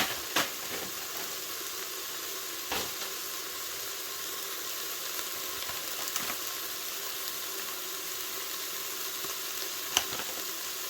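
Paprika and spices being stirred in a Cookeo multicooker pot, a steady close sizzle of frying with a few soft spoon scrapes and taps against the pot, no voices.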